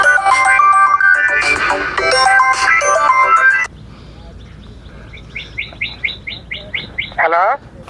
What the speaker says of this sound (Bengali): ও ফোন আইছে।